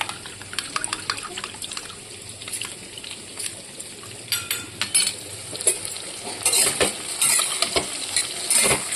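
A spoon stirs chili powder and spices into water for a thin rohu fish curry, with quick repeated clinks against the bowl and wet swishing that grow busier and louder over time, close by with no talking.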